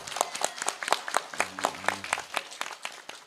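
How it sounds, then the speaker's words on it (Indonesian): An audience at an Islamic religious gathering applauds a graduate coming on stage, with sparse, fairly quiet separate claps in an uneven rhythm and a brief low tonal sound partway through. "Ayo tepuk tangan."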